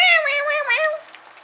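A person imitates a cat's meow, producing one drawn-out, wavering, nasal mew that is loud and close, then trails off into quiet room tone.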